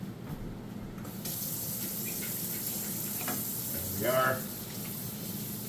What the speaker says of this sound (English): we will wash our hands